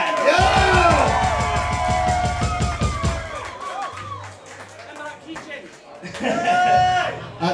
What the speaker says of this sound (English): Everybody give him a big fucking cheer, man!